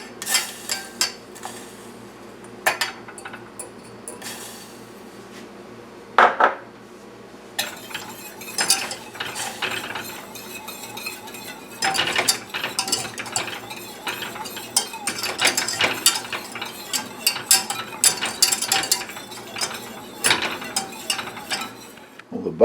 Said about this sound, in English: So I'll shut the heat off and whisk in the butter.